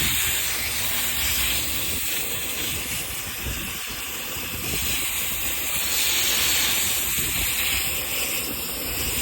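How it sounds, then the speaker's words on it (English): A water spray rinses acidic cleaner and dirt out of air-conditioner coils, making a loud, continuous hissing rush with a slight rise and fall in strength. No voices. "Just rinsing it out."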